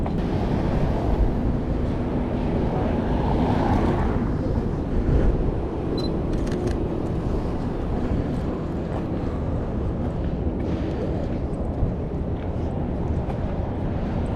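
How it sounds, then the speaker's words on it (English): Strong wind buffets a GoPro microphone outdoors on a city street. It makes a constant loud rumbling roar that lasts the whole time, with no speech. "this wind is blowing right at the GoPro, which means the sound is probably mint"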